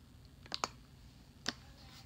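Fingertip taps on a Surface Book 2 touchscreen: a quick pair of light clicks followed by a single tap about a second later, close by and quiet against a soft background hiss.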